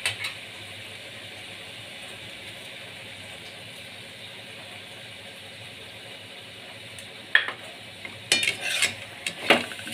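Paneer curry is stirred in a pan on the stove: a steady low sizzle runs throughout, and a few louder scraping stirs arrive near the end, with no voices.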